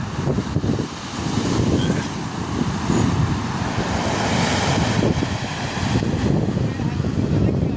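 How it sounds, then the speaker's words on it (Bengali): Sea waves rolling onto a sandy beach, a continuous loud wash of surf mixed with heavy wind buffeting, steady throughout. "সমুদ্রে ঢেউ আসছে"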